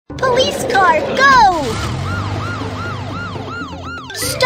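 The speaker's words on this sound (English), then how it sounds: "Police car, go!" Cartoon police car siren from the BabyBus children's game Baby Panda World, a repeated wailing sweep rising and falling about once per half second, loud and close, with a child-like voice talking briefly at the start.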